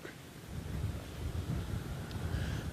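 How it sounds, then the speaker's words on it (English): Steady wind rumbling against the microphone, a low blustery roar with no voices. "Well, it's very windy right now."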